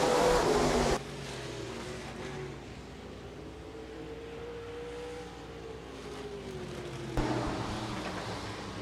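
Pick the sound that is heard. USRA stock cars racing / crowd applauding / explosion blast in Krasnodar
USRA stock cars racing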